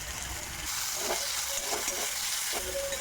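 Straw mushrooms fry in a pan with chili and garlic paste, chili powder, turmeric and salt, giving a loud, constant sizzle broken by several scraping stirs of a spatula.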